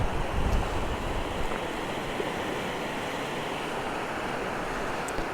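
Water in a creek rushes in a steady, loud wash of broadband noise, with some wind buffeting the microphone and no voices.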